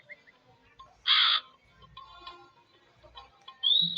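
A crow caws inside a video game, two loud harsh calls standing out over a quiet, cluttered game background.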